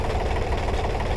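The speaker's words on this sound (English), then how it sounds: "This Honda engine works really good." Honda engine powering a leaf material collector runs steadily at a constant drone, loud and close, with a rough knocking pulse throughout.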